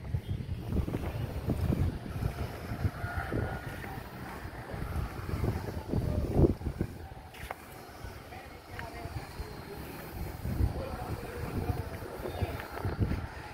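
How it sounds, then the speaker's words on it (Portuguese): A dry, strong wind blows outdoors on a downtown street in Teresina, Piauí, buffeting the microphone with steady, loud rumbling gusts throughout. "mas é um vento seco, agressivo"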